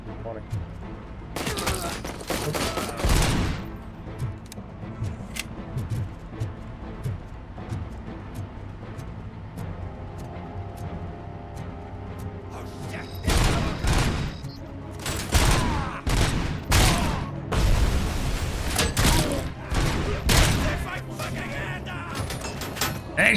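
Bursts of gunfire crack through combat in the Robocop: Rogue City video game, with loud heavy volleys early, a quieter stretch, then more rapid firing later, all mixed with game noise and occasional talk.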